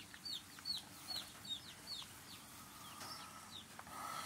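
Small chicks in a brooder pen give repeated high, thin cheeps, a dozen or so short calls scattered across the clip at close range, with no talking.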